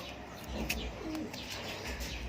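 Low cooing from a pigeon or dove, a couple of rounded phrases with a brief chirp, set against constant ambient outdoor noise at moderate level.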